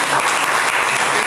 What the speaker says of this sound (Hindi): के लिए तालियां बजा दीजिए।